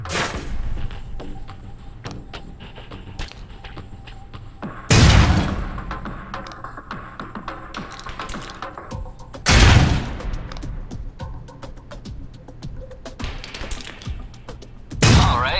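Concussion grenades exploding in the video game Alpha Protocol: three loud, booming blasts spaced about five seconds apart, with gunfire-like crackles and clatter filling the gaps between them.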